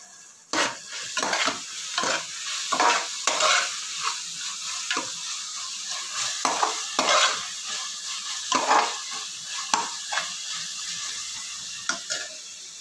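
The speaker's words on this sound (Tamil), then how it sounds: "தக்காளி வெங்காயம் பார்த்திங்கன்னா நல்லா வதங்கிட்டுருக்கு." Tomato, onion, coriander and mint sautéing in a pan for a budget mutton biryani, with steady sizzling and frequent stirring scrapes and clinks of a spoon against the pan, close and continuous.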